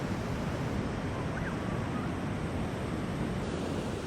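Waves at a Portuguese surf beach known for professional tournaments roar as a dense, steady wash of surf, loud and unbroken, with wind buffeting the microphone throughout.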